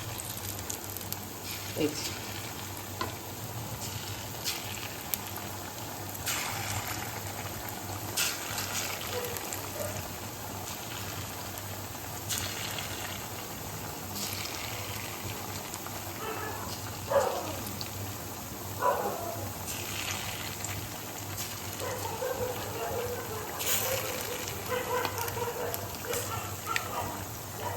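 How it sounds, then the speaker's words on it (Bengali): Bora fritters fry in hot oil with a steady, faint crackling sizzle that runs throughout, with occasional louder pops and a few brief spoken words. "তো বড়ার মতন করেই আমি কিন্তু একটু ভেজে নেব।"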